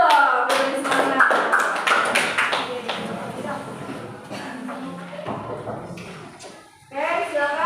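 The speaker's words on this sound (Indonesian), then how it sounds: "Kasih tepuk tangan dulu dong, biar semangat." Classmates clap their hands in a school classroom during a project-based painting lesson, a loose burst of claps and taps mixed with chatter and voices, fading before a louder clatter near the end.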